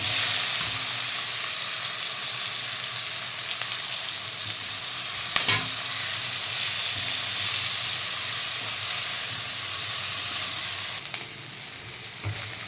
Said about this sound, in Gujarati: હવે કેપ્સિકમ એડ કરી દઈશું અંદર.